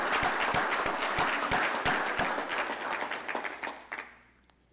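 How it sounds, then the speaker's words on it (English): A church congregation claps in applause at a Sunday morning homecoming worship service, dense and steady at first, then thinning out and fading to near quiet by the end. "Let's give the Lord a round of applause on that."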